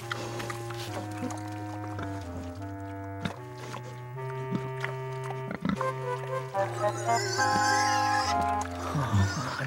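Cartoon pigs grunt and oink in a pigsty scene of an animated Bible story, a run of short, pitched animal calls with a musical tonal quality that grows busier and louder toward the end.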